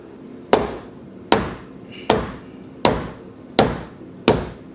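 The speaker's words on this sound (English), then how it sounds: "So maybe I should hit this with a hammer." Six sharp hammer blows on the plastic casing of a Chevy Sonic car land at a steady, deliberate pace, each a hard plasticky crack with a short ringing decay.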